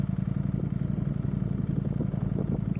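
Ducati Streetfighter V4S motorcycle engine idling close by, a steady low, lumpy rumble with faint mechanical clatter as it drops from neutral into first gear, running alone without talk.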